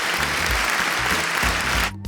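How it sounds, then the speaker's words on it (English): A studio audience claps for a talk-show host in a steady, dense burst that fills most of the moment, then cuts off abruptly near the end, with faint low rumbling voices beneath. "I'm going to give myself another round of applause"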